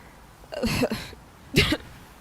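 Two short coughs, about a second apart, fairly close and clear with quiet in between.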